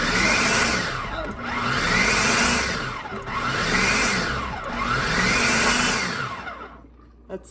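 A food processor pulses flatbread cracker dough in steady repeated bursts, a loud whirring motor that swells and dips about once a second, then cuts off into near silence at the end.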